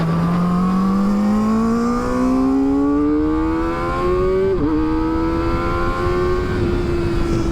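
A 2023 Kawasaki ZX-4RR KRT with a flashed ECU revving hard, engine pitch climbing steadily then dropping sharply at a quick-shifter upshift and rising again, loud and close with wind rush.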